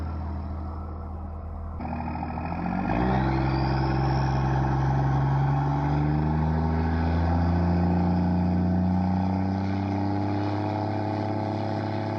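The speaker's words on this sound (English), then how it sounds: "Exhaust leak." A large truck engine with an exhaust leak idles, then revs up and holds a deep, steady rumble with a rough, puffing exhaust sound underneath.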